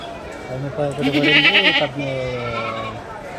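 Goats bleat repeatedly at a busy weekly goat market in Kadiri, several overlapping wavering calls close by, the loudest in the middle, with people talking underneath.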